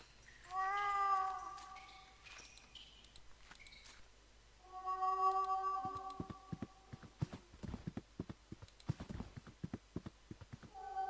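A cat meows from behind a wall in the point-and-click game The Last Door, two drawn-out harmonic cries separated by a pause, followed by a run of sharp clattering taps.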